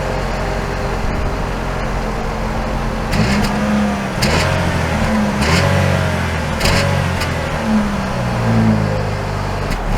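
A 2022 GMC Terrain AT4 pulling away, its engine hum rising and settling through a few gentle accelerations, heard from inside the cabin.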